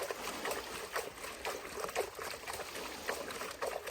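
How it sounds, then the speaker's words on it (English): Water in a pail splashes and trickles as a sandy tray is rinsed, a faint, close series of light sloshes and drips repeating at a loose, uneven rhythm. "Give her a couple little splashes."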